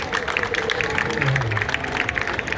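Crowd applause for a lone gondola passing during the Venice historical regatta, a dense, steady patter of many hands clapping outdoors that holds at an even level throughout, with a faint voice underneath.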